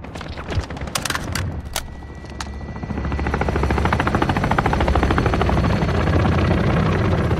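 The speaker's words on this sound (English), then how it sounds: "Friendly chopper gunner on Overwatch." A friendly chopper gunner helicopter in Call of Duty: Modern Warfare drones loudly and steadily with rapid rotor chop building up, while sharp gunshots crack over it early on.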